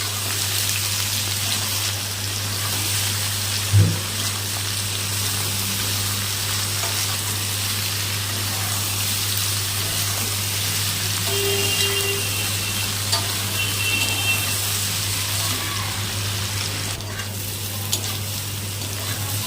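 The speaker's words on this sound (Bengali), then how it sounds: "সব কচু একবারে দিয়ে ভেজে নেব লবণ হলুদ ভালো করে ভেজে নিতে হবে লাল লাল করে" Chunks of shola taro fry in a pan with salt and turmeric, giving an even, continuous sizzle throughout, with only a couple of faint knocks from stirring.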